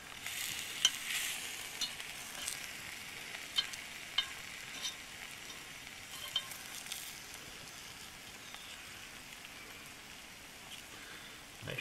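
A lamb roast and potatoes cook in a camp oven over a bush campfire, giving a faint, steady crackle and sizzle with scattered sharp pops and ticks throughout. No one speaks.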